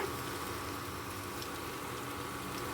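Jeera rice ingredients fry in a hot pan, giving a steady, even sizzle throughout with no breaks and no voices.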